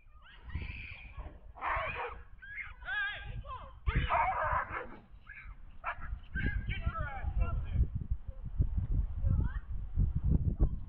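A shepherd dog barks while defending a boy, with several sharp barks scattered through the clip over a busy bed of talk and background sound.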